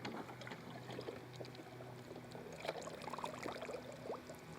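Faint bubbling and trickling water as a robotic pool cleaner sits submerged in a pool with air escaping, a steady low wash with small gurgles throughout.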